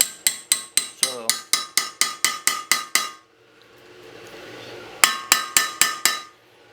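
A hammer strikes a steel wheel bearing tool on a 2012 VW Tiguan front hub in sharp, ringing metallic blows, about a dozen in quick regular succession, a pause with faint rustling, then five more close, loud hits.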